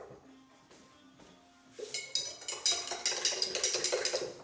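Cranberry rum punch shaken hard in a cocktail shaker, a quiet start giving way to loud, rhythmic clattering of ice and liquid against the metal.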